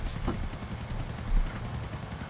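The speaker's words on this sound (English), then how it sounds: "I hear a helicopter." A helicopter's rotor chops steadily in the background of the video game Grand Theft Auto IV, a continuous thudding whir with no talking over it.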